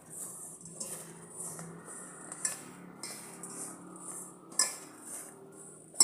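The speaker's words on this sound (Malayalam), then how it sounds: "എല്ലാം കൂടി ഒന്ന് മിക്സ് ചെയ്യാം. കുറച്ച് നെയ്യും കൂടെ ചേർത്തിട്ട് മിക്സ് ചെയ്യാം." A spoon scrapes and clinks against a bowl while ragi flour is mixed with nuts and ghee, giving faint, irregular taps and scraping close by with no voices.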